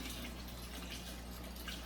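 Water pours steadily into a small portable washing machine used for RV or apartment laundry, a continuous close splashing rush with no pause.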